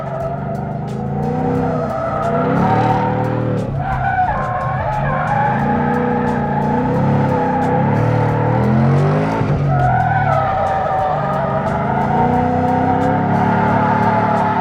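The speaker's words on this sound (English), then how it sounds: "now we're gonna do a figure 8. Come in, little weight transfer, boom, bring the handbrake" A Ford Mustang drifts a figure 8 using the handbrake, its engine roaring loudly and continuously while the tires squeal with rising and falling pitch through each transition.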